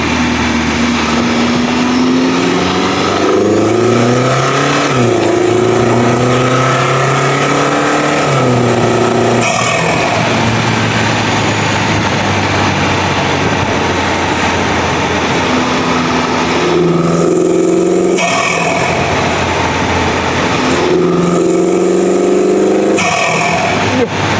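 A ten-year-old car's engine revs repeatedly from inside the cabin, a loud intake roar rising and falling through several long pulls with brief pauses and drops back toward idle.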